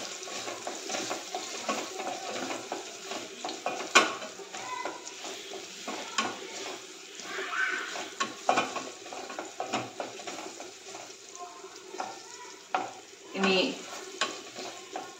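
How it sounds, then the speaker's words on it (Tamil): Frying in ghee in a pan for a pasi payaru sweet, a continuous close sizzle with frequent scraping and stirring of a spoon against metal. "இதில் நெய் போட்டு நல்லா"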